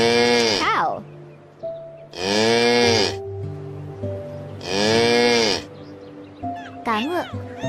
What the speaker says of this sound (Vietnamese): Con bò. Cow.